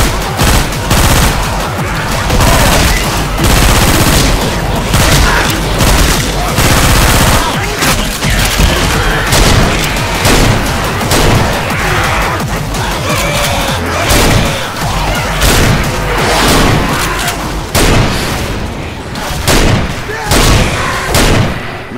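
Shotgun blasts and other weapons in the zombie shooter Left 4 Dead 2, a dense, loud barrage of rapid overlapping shots and booms that never lets up, with voices mixed in.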